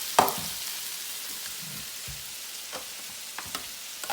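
Onion sizzles and fries in a pan for pasta sauce, a steady soft crackling hiss with a few sharp clatters of a utensil, close and fairly quiet.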